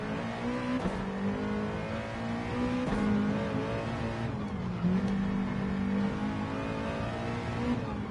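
NASCAR Cup car running at Laguna Seca in a racing game, exiting the Andretti hairpin: a steady, loud engine drone with rising and falling revs as it shifts through gears, continuous and alone with no talk.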